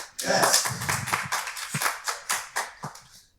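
A live audience at a fintech developer conference cheers and claps together in a dense burst of applause that fades into scattered, separate claps over about three seconds.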